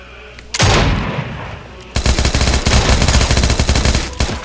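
A burst of gunfire rings out, then a sustained rapid-fire stream of machine pistol shots in a battle royale video game, loud and close.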